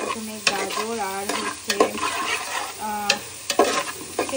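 Carrot and papaya frying in a pan, close sizzling broken by frequent sharp stirring scrapes and clatters of a utensil against the pan in an irregular rhythm, with a voice speaking over it.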